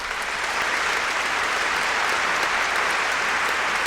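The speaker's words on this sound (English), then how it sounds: "Round of applause." Studio applause sound effect dropped into a live NHL 22 franchise-mode stream, a steady dense wash of clapping that runs unbroken at even loudness for the whole stretch, with no voices over it.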